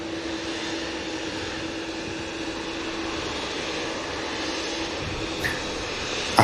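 A Boeing Dreamliner airliner departs Manchester Airport bound for Melbourne, its jet engines a steady broad roar holding at a distance, with a faint brief knock near the end.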